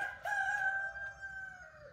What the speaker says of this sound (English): the rooster won't stop crowing